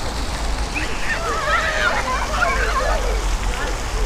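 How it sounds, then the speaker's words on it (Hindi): Water from a city fountain in Belgrade, where children play and splash, rushes and splatters steadily in the background while someone talks over it. "बच्चे छोटे छोटे खेल पानी के साथ बहुत खेलते हैं"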